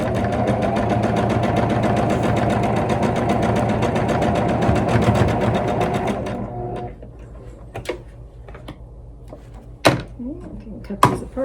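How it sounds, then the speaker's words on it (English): A domestic sewing machine runs in one steady, loud, continuous burst while stitching quilt block pieces together, then stops, followed by quieter handling noises and a few sharp clicks and knocks. "And then I'm going to sew this together."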